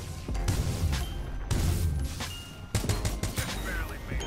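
Gunfire from shooting an enemy in Titanfall 2, with repeated loud shots in bursts and heavy impacts running through the whole stretch, mixed with busy game effects.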